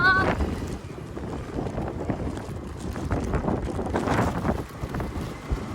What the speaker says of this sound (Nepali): यहाँ त झन् हावाहुरी लाएर बतास लागेर बन्डरै निस्किन लाग्यो